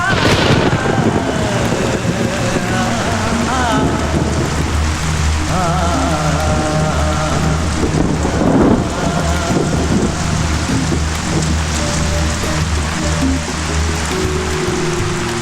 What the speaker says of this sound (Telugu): ఏంటి నాన్న పెద్ద వర్షం కురుస్తుంది